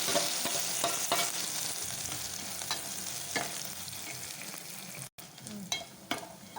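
Tempering spices crackle and sizzle steadily in hot oil, with sharp pops and occasional stirring, close by and without any voices.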